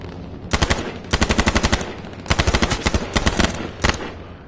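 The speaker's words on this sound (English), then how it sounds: "And then I shoot someone from that far." Rapid automatic gunfire from a PS4 video game rattles out in several loud bursts of quick shots, separated by brief pauses.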